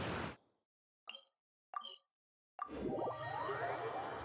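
A character drops into water in Genshin Impact during the Sumeru Archon Quest, giving a splash that spreads into bubbling, churning game audio after short sound-effect blips.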